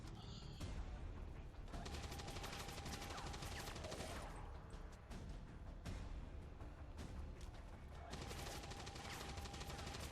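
Overwatch gunfire in XCOM 2 Long War 2 comes as a dense, sustained burst of rapid shots, loud and continuous, with a few short pauses between volleys.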